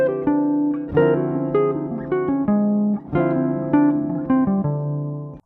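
A modal jazz line on a keyboard-like instrument shifts pentatonic shapes up a half step for a touch of dissonance and then back down, with steady struck notes and chords heard close and alone, without talk.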